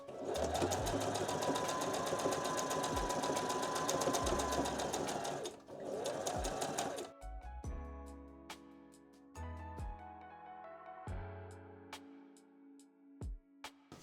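A sewing machine stitches layers of felt for a dollhouse pillow, running in a fast continuous whir before stopping and restarting in short bursts.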